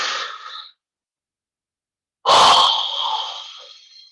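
A person doing yoga breathing gives a short breath out, goes quiet for a long moment, then lets out one strong, breathy exhale that fades slowly as the lungs empty completely, heard up close.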